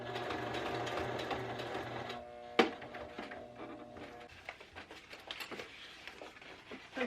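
A sewing machine stitches a small bag made from fabric scraps with a steady, close mechanical whir, then stops with a sharp clack, followed by softer intermittent clicks and rustling.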